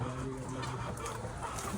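Several chickens cluck and murmur nearby in a continuous, overlapping chatter, moderately loud with a soft background hum.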